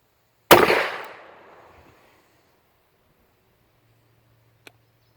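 A single loud gunshot from an old, used Smith & Wesson Model 29 .44 Magnum revolver, a sharp near blast whose roar decays over about a second, followed by quiet and a faint click.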